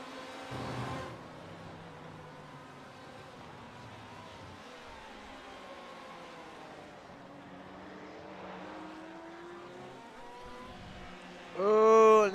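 GT race cars (GTE and GT4 classes) at Texas Motor Speedway braking into turn 1, a steady engine drone under faint talk, ending with a loud rising engine surge close by.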